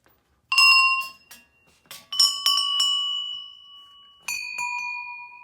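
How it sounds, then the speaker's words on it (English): Solari bronze bells in a hallway at a modern design auction preview ring out in clear, bright strikes, a first struck chime followed by several overlapping rings and a final strike, each with long sustained metallic tones decaying alone. "you have the Solari bells"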